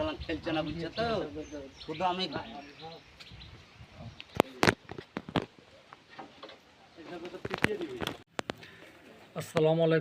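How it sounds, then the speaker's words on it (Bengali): Giribaz pigeons at a pigeon sale in Murshidabad coo in soft, rolling bursts, mixed with sharp clicks and ticks nearby, while someone talks over part of it. "এই যে পায়রাগুলো দেখছেন পায়রাগুলো অ্যাকচুয়ালি সেলের জন্য দেখানো হয়"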